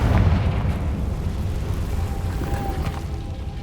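A Confringo spell blast in Hogwarts Legacy: a loud, rumbling explosion at the start trailing into a sustained roar of debris and crackle.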